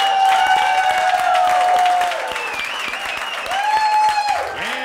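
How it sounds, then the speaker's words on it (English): A studio audience on a talk show applauds and cheers as a guest comes on, with upbeat music playing over the steady clapping throughout. "Let's give a big round of applause for Kate Winiarz."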